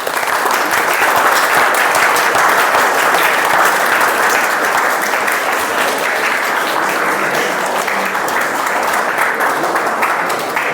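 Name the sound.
applause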